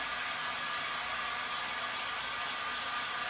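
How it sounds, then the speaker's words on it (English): A hair dryer blows steadily and loudly at close range, used to dry a painted tin crock for farmhouse decor; a continuous broadband whoosh fills the few seconds with no talking. "I'm just using a hair dryer,"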